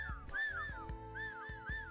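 A person whistles a rapid, repeated rising-and-falling two-note pattern, bright and fairly close, over a steady low hum and occasional soft thumps, with no talking.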